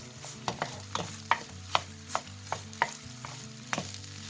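A spatula or spoon scrapes and clacks against a pan as rice coated in omelette is stirred continuously over high heat, with sharp knocks at irregular intervals over a faint sizzle.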